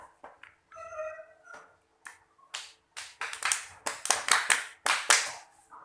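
A class of students claps together as a group in a classroom after grades are announced, starting with scattered claps and building into a loud, dense round of applause.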